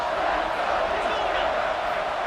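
A football stadium crowd makes a steady, fairly faint roar during a red zone defensive stand, a continuous wash of noise with no distinct voices standing out.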